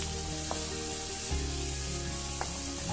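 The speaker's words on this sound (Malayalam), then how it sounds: "തീ മീഡിയം ഫ്ലെയിമിലേക്ക് മാറ്റിയ ശേഷം നല്ലപോലെ ഇളക്കി ഉള്ളി വഴറ്റിയെടുക്കാം" Chopped onions sautéing over a medium flame in a pan for a spinach stir fry give a steady, close sizzle that continues throughout, with a couple of faint clinks from stirring and no talking.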